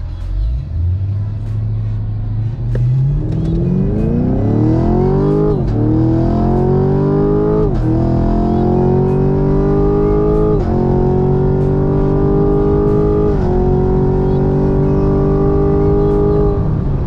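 A stock LT1 Camaro launches down a drag strip, its engine note rising steadily through several gears with brief dips at each shift, loud and close from inside the car.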